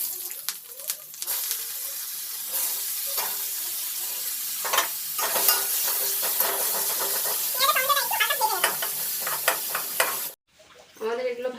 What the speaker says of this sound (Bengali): এরপর এই তেলেই আমরা দিয়ে দেব কুচিয়ে রাখা পেঁয়াজ